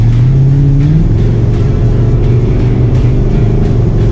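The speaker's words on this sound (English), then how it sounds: "Off the brake pedal, turn in. And start accelerating." A Ford Mustang's engine drones loudly and continuously on a race track, pitch climbing as it accelerates out of a turn, with no voices over it.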